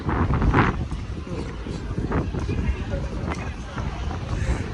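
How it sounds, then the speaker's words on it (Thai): Strong outdoor wind buffets the microphone on a London street, a steady loud rumble throughout with the low murmur of a voice and street noise beneath it. "เสียงลมนะคะอาจจะ"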